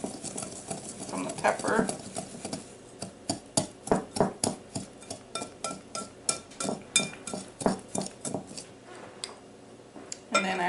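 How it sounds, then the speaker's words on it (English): Cajun seasoning spices being stirred together with Himalayan salt, a rapid series of sharp clinking and scraping strokes against a bowl, steady and close, with a voice speaking briefly near the start. "we're just going to mix it all together"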